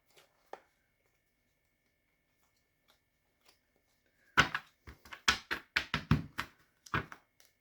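A thick deck of cards being shuffled by hand: after a few faint ticks, a close, loud run of rapid riffling bursts repeats in uneven clusters with brief gaps between them.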